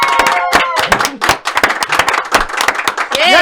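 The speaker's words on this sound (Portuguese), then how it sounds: "Uma salva de palmas." A podcast guest is welcomed with a short burst of clapping from a small studio group, sharp irregular hand claps close by with some voices mixed in.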